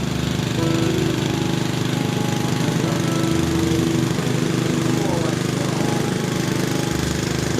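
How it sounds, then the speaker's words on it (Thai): Engine-driven pump draining a fish pond at a shooting range property in Chiang Rai, Thailand, a loud, steady rapid chugging that runs without a break, with some voices faintly underneath. "นี่เขากำลังสูบปลา"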